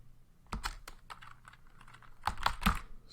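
Keys clatter on a computer keyboard as a Linux command is typed, a quick irregular run of close, crisp clicks with a brief flurry near the end.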